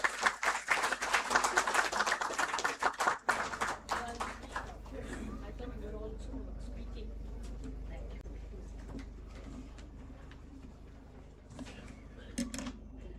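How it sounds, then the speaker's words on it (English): Guests at a moot court prize distribution ceremony applaud the chief guest, a loud spell of dense clapping that fades after a few seconds into quiet room tone with faint sounds and a few scattered claps near the end. "A huge round of applause for ma'am"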